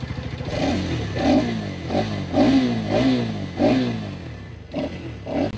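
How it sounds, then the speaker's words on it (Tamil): Hero Karizma XMR 210 motorcycle exhaust revved in a series of about eight quick throttle blips, each rising and falling sharply, close up with a steady idle between them and no talking. "இந்த எக்ஸாஸ்ட் சவுண்ட் ஏதோ ஒரு வண்டிக்கு சிமிலரா இருக்க மாதிரி இருக்குல்ல"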